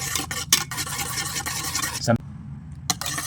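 Raisin cake batter is stirred by hand right after 30 ml of oil goes in, giving a steady close rubbing and scraping texture that continues for a few seconds, with brief quieter gaps.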